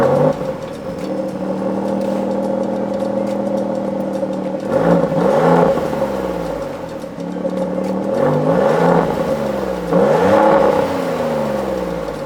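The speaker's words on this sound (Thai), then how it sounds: "เดี๋ยวเราไปฟังเสียงกันนิดนึงครับสำหรับโทรเฟโอตัวนี้ครับ" A Maserati Grecale Trofeo SUV revving through its quad exhaust, loud and close: a steady idle broken by three sharp throttle blips that rise and fall back.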